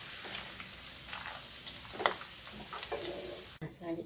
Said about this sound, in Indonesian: ini digoreng sampai berbunyi ketik